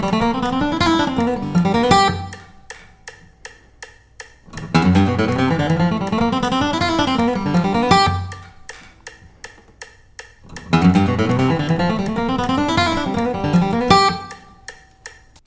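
Bluegrass guitar lick played at about 160 bpm, three bursts of fast picked notes separated by gaps filled with steady metronome-like ticks, close and clear with no talking.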